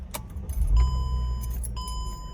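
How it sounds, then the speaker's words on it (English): A Mercedes W211 E-class is started with its keys: a brief jingle of keys, then the engine catches and settles into a low idle rumble with chimes, up close and with no talk. "now I'm gonna start my car"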